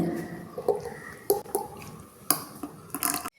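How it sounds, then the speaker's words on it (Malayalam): Blended homemade juice poured from a mixer jar into a glass jar, heard as short wet drips and splashes with a few sharper clinks, close and fairly quiet. "ഞാൻ ഇതുപോലൊരു ഗ്ലാസ് ജാറിലോട്ട് ഒഴിക്കുന്നുണ്ട്"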